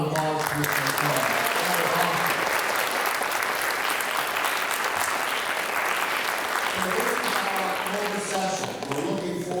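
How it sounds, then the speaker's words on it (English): An audience at a school event applauds a guest speaker with sustained, dense clapping that fills the room for nearly ten seconds, while a voice speaks briefly at the beginning and end. "How about another round of applause for Mr."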